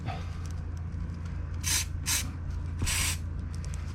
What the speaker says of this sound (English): When that dries, it will actually be a rubber coating on there, and it goes just like spray paint.